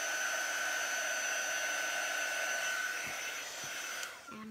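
Hair dryer blowing on a Chalk Couture chalk design, a loud, steady close-up whoosh that drops slightly near the end as it shuts off.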